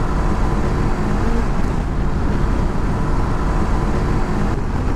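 A Honda CB500X motorcycle at full throttle in fifth gear around 6,000 RPM, fully loaded with a pillion on a long-distance ride: a loud, steady engine drone mixed with heavy wind and road roar, no voices.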